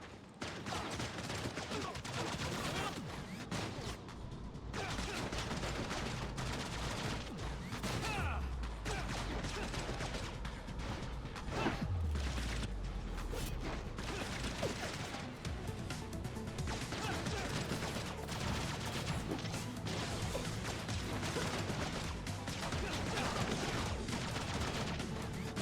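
Gunfire fills a Tower of Fantasy fight, with continuous shots and crashes layered over a busy game mix. A few heavier impacts rise out of the sustained din.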